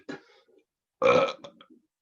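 A storyteller imitates a loud belching burp as part of a live children's story, a short vocal croak followed by a longer, gurgling burp, close and clear.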